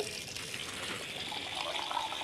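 Water runs steadily from a tap during wudu ablution, a continuous splashing gush heard close with no pauses.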